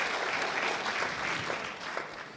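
Applause at a plenary session for the woman who designed the poster, a short stretch of steady crowd clapping at moderate volume, fairly distant in a large room.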